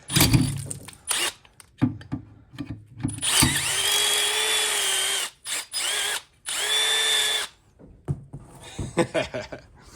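A power drill whines in sustained bursts while drilling out parts for a DIY four-tire inflation system, starting and stopping between quieter handling noises and a brief chuckle.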